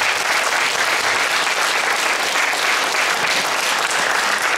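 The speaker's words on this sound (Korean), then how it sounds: "여러분들 큰 격려 박수 한번 보내주시기" Crowd at a Hongseong county community sharing festival giving sustained, encouraging applause, loud and steady with no speech over it.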